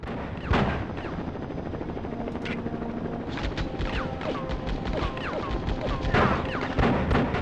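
Gunshots in the video game Die Hard Vendetta crack out irregularly, several sharp reports over a constant whirring, mechanical background din, loud and close.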